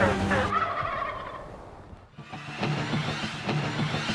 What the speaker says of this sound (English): the turkeys were on. They were gobbling like crazy.